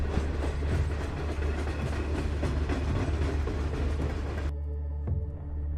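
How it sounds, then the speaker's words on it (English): A train rumbles through the deep Gotthard Base Tunnel with a loud, steady clatter and rolling roar that cuts off abruptly near the end, leaving a low resonant hum. "And that was a train I heard."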